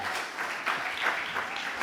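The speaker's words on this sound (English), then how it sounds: "Give them all a special round of applause." A ceremony audience gives a brief, moderately loud round of clapping, with scattered hand claps blending into a short, uneven wash.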